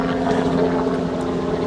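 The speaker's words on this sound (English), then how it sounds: "there's a noisy helicopter coming over." Helicopter flying overhead near a nature reserve hide entrance, a steady loud droning rumble with a constant engine hum, filling the whole stretch without talk.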